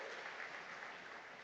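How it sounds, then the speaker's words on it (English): A university induction ceremony audience claps in a brief, faint burst of steady applause, heard alone without talking. "please give a huge round of applause to Honorable Revered Professor Dr. Vishwanat"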